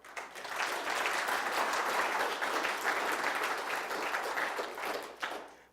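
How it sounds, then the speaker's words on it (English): Conference audience applauding at the end of a short talk: a steady, moderately loud burst of many hands clapping that swells quickly, holds for several seconds, then fades. "So can we get a big round of applause for"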